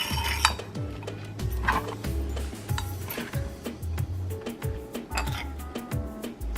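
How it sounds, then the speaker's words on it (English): Utensils clink and scrape against a bowl in repeated strokes as marinade is mixed into mushrooms for Korean japchae, with clear metallic taps and soft stirring rubs at close range, no talk. "we're gonna mix all together our marinade that we made and our mushroom"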